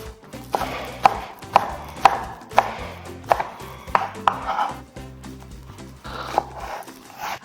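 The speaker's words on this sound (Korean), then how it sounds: "파기름을 낼 수 있는 부분은 조금 송송송송 썰어서 파기름이 잘 우러날 수 있게 작게 썰어놔 주시고요" A knife finely slices green onion (daepa) on a cutting board, giving about a dozen crisp, evenly spaced chops that are close and clear, with a faint background hum.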